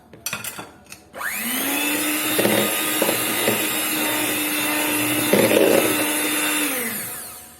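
Electric hand mixer beating egg yolks into chocolate cake batter: a steady, loud motor whir that starts after a few short bumps, runs for about six seconds with slight changes in pitch, then winds down.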